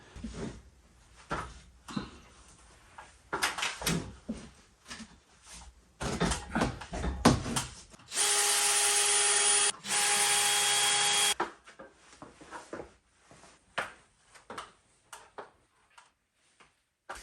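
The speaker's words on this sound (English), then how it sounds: "to put the LB in, I need to drill a hole" A power drill with a hole saw grinds through material in a loud burst of about three seconds, with a short pause, amid scattered knocks and handling clatter, while installing an LB box.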